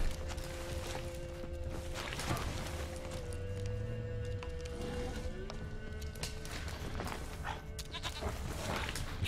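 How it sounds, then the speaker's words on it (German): A goat bleats in a quiet scene in The Witcher 3, its drawn-out cry rising over a steady ambient bed with occasional footsteps and clinks. "Ich höre die Ziege."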